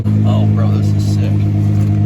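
A boosted 600 HP Nissan GT-R idles in race mode with a deep, loud, steady engine rumble heard from inside the car, while someone talks over it.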